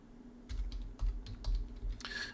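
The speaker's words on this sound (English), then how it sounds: "Oh, the word cities, if I just type that again." Computer keyboard typing, a short run of soft, closely spaced key taps heard near and alone, with a low hum underneath.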